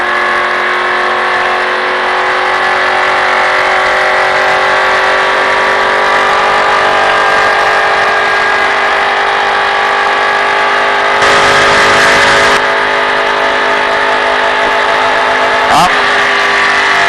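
A car engine holds a loud, steady drone throughout, with a brief surge near the end, while a voice talks over it.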